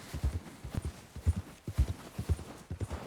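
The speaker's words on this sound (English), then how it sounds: "I could possibly tame the Arabian just to sell her" An Arabian horse's hooves clip-clop in a steady walking rhythm in Red Dead Redemption 2, with close, distinct paired hoofbeats repeating for about three seconds and no talking.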